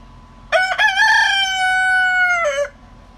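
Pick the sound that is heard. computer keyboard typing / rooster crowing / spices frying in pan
rooster crowing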